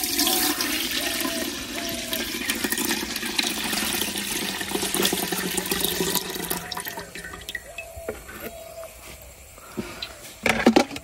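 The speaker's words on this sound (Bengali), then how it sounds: "দুধটা আমি ছাইকা দিতেছি" Cow's milk from a home cattle shed is poured and strained into a cooking pot for palm-fruit rice pudding in a village kitchen, giving a steady liquid splashing and trickling that runs on for several seconds before tapering into clatter.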